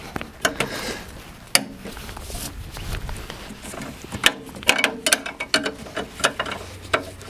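A wrench ratchets out the bumper reinforcement screw on a Peugeot 205 GTI, giving close, uneven clicking and metallic ticks with short pauses and a few louder knocks.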